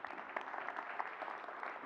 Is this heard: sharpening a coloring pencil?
no